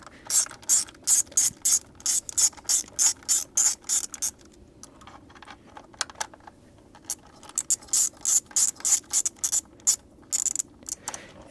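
A hand ratchet backs out 10 mm bolts on a Hyundai Tucson 2.0 GDI engine during ignition coil work, giving close, crisp clicking bursts in short repeated strokes with brief pauses.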